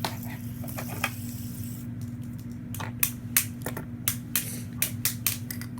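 A fidget spinner spins noisily with a rattling, clicking patter of small plastic and metal parts, in quick irregular bursts over a steady low hum.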